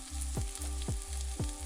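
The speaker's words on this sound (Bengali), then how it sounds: "এতে করে মটরশুঁটির 2 সাইড ভালো করে ভাজা হবে।" Green peas fry in oil in a pan, a close, steady sizzle with a few soft stirring scrapes in a short burst.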